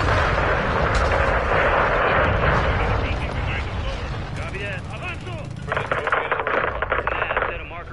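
Heavy airstrike blasts level a gas station in the Call of Duty Modern Warfare II campaign, with loud, dense rumbling booms that fade and then give way to sharp crackling impacts, while radio voices talk over the din.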